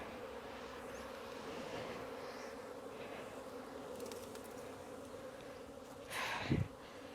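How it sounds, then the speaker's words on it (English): A bee swarm gives off a continuous, droning buzz, with individual insects passing close to the microphone, and a louder rustle or bump near the end. "It's always an adventure catching a swarm"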